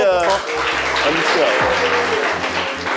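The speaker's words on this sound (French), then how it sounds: "On peut l'applaudir." An audience claps for a winner on a live broadcast, steady applause close by with a voice speaking over it and a few low thumps.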